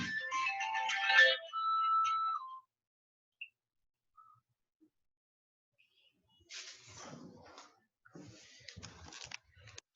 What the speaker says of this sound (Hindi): एक मिनट में इस फोन को साइलेंट कर देता हूँ